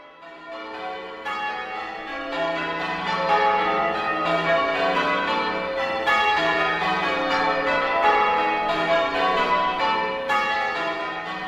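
Church bells of old Kirkbraden ring in a continuous, overlapping peal with bright, sustained tones, moderately loud and steady throughout.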